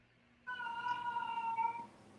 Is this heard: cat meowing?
yes